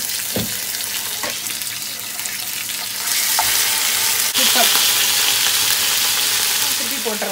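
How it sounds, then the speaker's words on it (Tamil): Mutton chops fry in a little oil in a non-stick pan, sizzling steadily close by, with clinks and scrapes as they are flipped; the sizzle grows louder and hissier partway through. "இப்போ வந்து இந்த மட்டன் சாப்ஸை வந்து இப்படி கொஞ்சமாக எண்ணெய் விட்டு லேசாக திருப்பி திருப்பி போட்டு எடுத்துக்கணும்"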